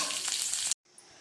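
Green chillies hit hot oil in a pan for a peanut tomato chutney, giving a loud, close, dense sizzle that cuts off abruptly, then a quieter fizzing continues alone.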